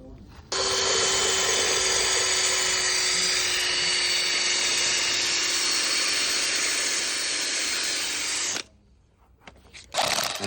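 A drill grinds a shallow bore into 20mm porcelain tile with a steady high-pitched whine lasting about eight seconds, then stops abruptly before a brief burst of tool noise.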